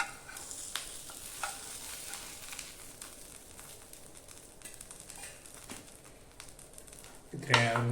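Fish frying in a pan gives a soft, continuous sizzle broken by stirring scrapes and light utensil taps, ending in a louder clatter at the close.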